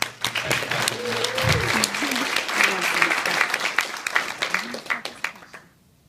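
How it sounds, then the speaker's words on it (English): Audience applause at a Buffalo Startup Week event at UB, a full round of clapping that swells and then tapers to silence at the end, with a voice speaking over it early on. "So if you give a big round of applause again."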